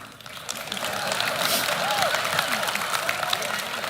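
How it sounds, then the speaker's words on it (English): An audience claps steadily in a hall, a dense, even wash of applause with crowd murmur that holds for several seconds, loud and fairly close. "why are they clapping?"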